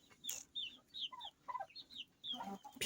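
A Shamo rooster clucks quietly nearby, giving a quick run of short, chirpy clucks and low murmurs in an uneven rhythm.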